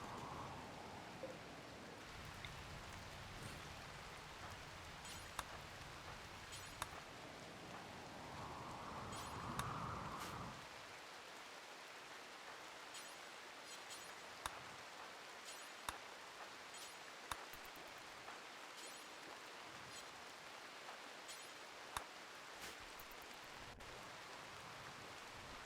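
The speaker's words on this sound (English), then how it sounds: "that rain did the job" Steady soft rain hiss in the video game Rimworld, faint and continuous, with a brief brighter rush partway through and occasional small clicks.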